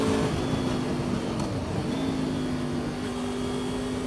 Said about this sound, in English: this car now, he's put his foot down